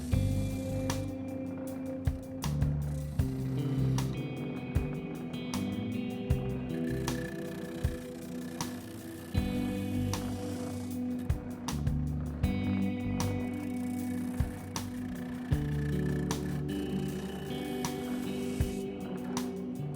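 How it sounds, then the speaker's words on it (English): A spindle sander works on a Telecaster guitar body: a continuous motor hum and grinding rasp, with repeated sharp knocks and louder sanding bursts as the wood is pressed against the spindle, close and loud. "So on this area, this spindle makes it really easy to sand."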